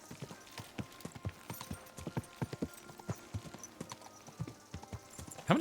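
Horse hooves clip-clop in a rapid, steady gallop in Kingdom Come: Deliverance 2, the medieval role-playing game, with close, distinct thuds and a brief whinny-like burst at the very end.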